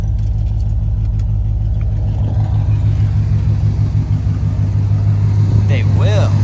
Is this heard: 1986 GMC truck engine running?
yes